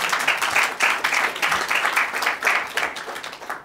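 An audience applauds partway through a speech on state attorneys general, with the clapping pulsing in loose, rhythmic waves, close and fairly loud, before fading at the end.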